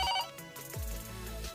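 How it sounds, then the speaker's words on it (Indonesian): Telephone ringing with a bright electronic ringtone tone that fades, followed by a lower sustained electronic tone, close and clear with no talk. "telepon berbunyi."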